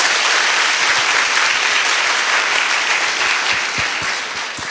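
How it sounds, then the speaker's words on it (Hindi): Sustained audience applause at a devotional question-and-answer gathering, a dense steady roar of many hands clapping that fills the whole stretch and eases off slightly near the end, with no talk over it. "जोर से ताली बजाइए।"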